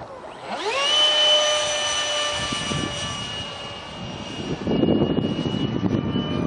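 A 70mm electric ducted fan RC jet on a Detrum combo kit running a 2200mAh 40C LiPo whines past in flight, a high rising turbine-like tone sweeping in, holding steady, then fading into outdoor wind noise.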